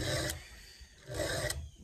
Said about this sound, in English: this is not the only way to sharpen a chainsaw